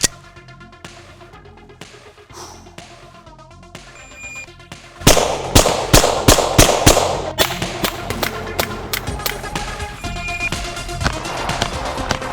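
Beretta pistol fired at an outdoor range alongside a Desert Eagle, with a string of loud, sharp gunshots. Scattered shots come first, then a faster, louder run of reports with ringing decay between them.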